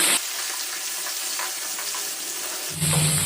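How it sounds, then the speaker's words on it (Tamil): Continuous sizzling and crackling of tomatoes sautéing in hot oil in a pan, with brief louder clatters at the start and end. "இப்போ தக்காளியை நல்லா ஆயிலில் வதக்கிக்குவோம்"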